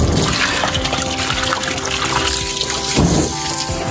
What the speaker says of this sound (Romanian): Bazinul se umple.